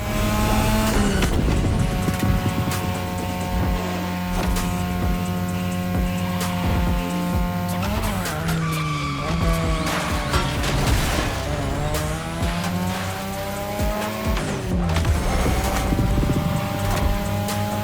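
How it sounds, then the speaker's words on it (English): A 2002 third-generation Mazda RX-7 with a rotary engine races in a video game, its loud, high-revving buzz climbing and dropping through gear shifts, with tire squeals and other cars passing throughout. "Tonight your ride is a 3rd Gen 2002 Mazda RX-7. Lightweight, compact, a sick rotary engine, and one hell of a look."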